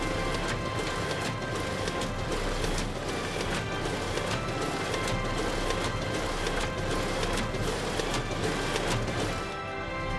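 A conventional Sekonic OMR scanner feeding and reading answer sheets: a dense, continuous rapid clatter and rustle of paper passing through the machine, steady and close, ending with a slight drop near the finish.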